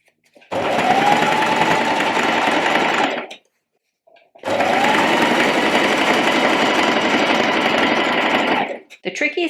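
A sewing machine stitches a jumpsuit seam over straps in two loud, steady bursts of about three and five seconds, separated by a short pause, with a brief clatter at the end.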